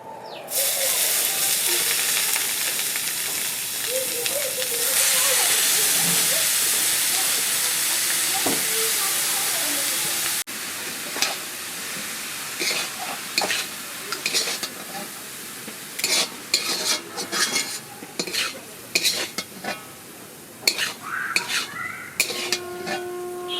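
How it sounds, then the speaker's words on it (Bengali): Grated carrots frying in hot ghee for carrot halwa: a dense continuous sizzle at first, then uneven bursts of stirring scrapes and softer hissing, all close to the microphone. "আমার ঘিটা গরম হয়ে গেছে আমি এবার গাজরটা ভেজে নেবো"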